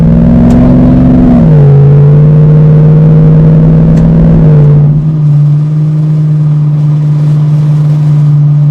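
1966 Ford Fairlane GTA with a 390 FE V8 cruising on the highway at a little over 60 mph and about 2,200 RPM, a loud, steady engine drone and road rumble heard from inside the car, easing slightly in pitch partway through.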